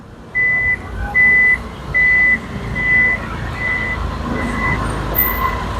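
The power tailgate on an Isuzu MU-X 1.9 Elegant gives a series of about seven loud, evenly spaced warning beeps close by, the first few longer, then fading into ambient noise.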